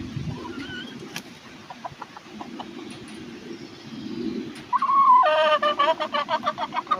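Adopted hens clucking near a person, scattered soft clucks and calls at first, then a louder run of rapid, rhythmic clucking close by toward the end.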